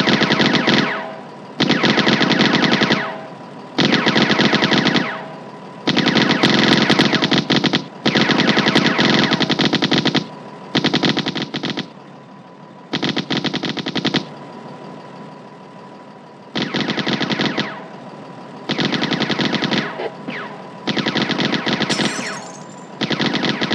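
Rapid machine gun bursts from the Firefight mobile game, loud and close, firing in repeated sustained volleys separated by short silent gaps.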